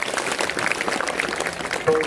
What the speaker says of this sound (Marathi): महाराज देशमुख बाबांसाठी एकदा टाळी वाजवतात.